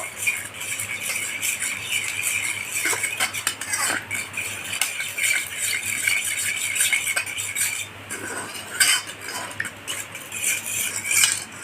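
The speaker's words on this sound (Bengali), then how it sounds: "এটা তো ভালো করে গুলে নেব" A spoon stirs cornflour into a cup of water in a cup or bowl, with steady scraping, clinking and swirling through the whole stretch, close and fairly loud, with no talking.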